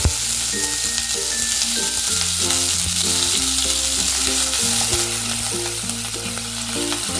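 Ginger, green chilli and curry leaves fry in a pan for masala dosa, giving off a constant bright sizzle. Background music plays under the sizzle throughout.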